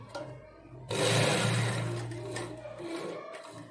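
A sewing machine runs close up, stitching a fabric strip onto a sari in one sustained whirring burst after a short start, with faint handling noise.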